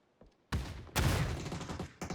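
Gunfire erupts in a PUBG esports match, a faint early pop followed by a loud sustained burst of rapid shots and another volley at the end, with no talk.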